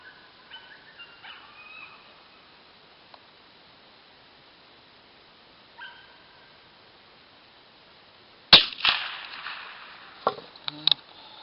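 One sharp, loud shot from an IZh-94 Sever combination gun cracks out over a faint background hiss, followed by a few smaller knocks and clatters.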